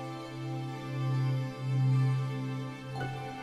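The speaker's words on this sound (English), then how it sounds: "what you're hearing right now is the sound of a huge Moshi rainbow" Magical rainbow ambience in the fantasy world of Moshi: a sustained, shimmering tonal drone with soft swelling layers that rise and fall gently, ending with a brief bright chime-like accent near the close.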